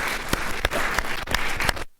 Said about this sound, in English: can we round of applause for our panelists